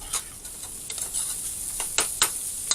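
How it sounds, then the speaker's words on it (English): Vegetables for beef stew sauté in a pan while being stirred, giving a soft steady sizzle punctuated by several brief scraping clicks from the spoon, fairly quiet and close. "give this a little bit of a saute to kind of wilt it a little bit, get a little bit of caramelization on it for flavor"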